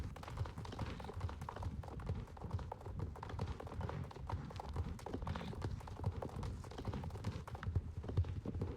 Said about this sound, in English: of the hooves when you're galloping. They are so satisfying. They change based on the terrain you're on